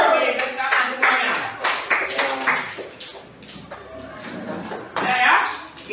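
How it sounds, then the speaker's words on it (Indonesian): Children in a fourth-grade classroom clapping their hands together in short, uneven bursts, close and fairly loud, with voices mixed in among the claps. "Oke, tepuk tangan semuanya."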